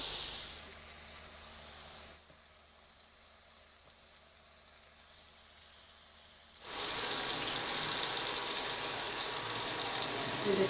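BBQ tikka sticks fry in a pan with a steady, close sizzle and hiss that drops quieter for a few seconds midway, then swells back louder and more crackly.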